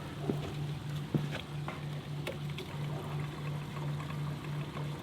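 Diesel fuel pours steadily from a red can into a vehicle fuel tank in 10° F cold, a continuous close trickle over a low steady hum with a few small knocks.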